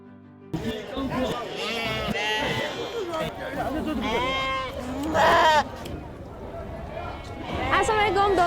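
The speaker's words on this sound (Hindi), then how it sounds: "मेरे आसपास इतनी ज़्यादा भेड़ें हैं" Many sheep bleat at a weekly livestock market in Yanchi County, Ningxia, China, with overlapping calls near and far over a busy crowd and people chattering nearby.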